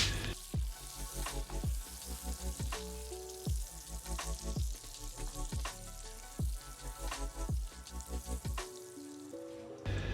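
Sugar and butter for a honey cake sizzle and crackle steadily in a hot pan while being stirred, with a regular scraping rhythm of the spoon running through the frying hiss.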